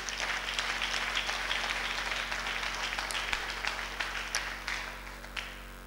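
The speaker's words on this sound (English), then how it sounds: "Clap for him." A church congregation claps during a sermon, with scattered hand claps rising out of a steady room hum. The applause is moderate and fairly distant, and it thins toward the end.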